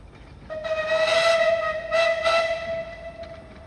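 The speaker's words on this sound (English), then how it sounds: "You got the steam train." Steam train whistle from the Green Hornet locomotive coming down the hill at Timbertown, Wauchope: a long sustained tonal blast with two louder swells, carrying over a faint rumble, heard from moderate distance.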